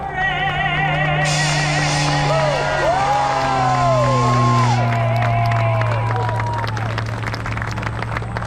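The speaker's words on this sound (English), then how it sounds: "how about another huge round of applause for Sergeant Major Mary Kay Messenger" An airshow crowd in Orange County, New York, claps and cheers loudly and continuously, with whoops and shouts rising from the mass of applause, plus a sustained low drone underneath.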